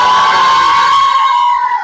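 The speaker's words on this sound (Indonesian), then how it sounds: "Oke, yang keras tepuk tangannya ya." A classroom of children cheers and shouts together in a loud, sustained chorus that holds steady for nearly two seconds before tapering slightly.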